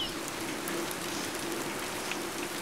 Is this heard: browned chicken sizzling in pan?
no